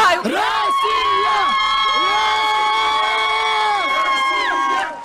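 Russian hockey fans at a celebration of a historic victory cheer and whoop continuously, a dense close crowd roar with high shouting voices sustained for several seconds before tapering off.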